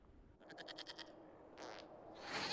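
A goat in Dragon Age: Inquisition gives a short, quavering bleat, faint and quiet, followed by a brief scuffing noise and a rising rustle at the end.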